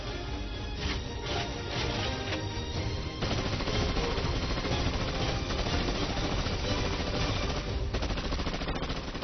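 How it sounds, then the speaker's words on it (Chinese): A Maxim machine gun fires in long, rapid sustained bursts, loud and continuous throughout, with a dense rattling texture and no talk over it. "随着马克沁机枪的横空出世，马克沁本人和他的这件得意之作开始赢得来自世界各个角落的目光和赞誉"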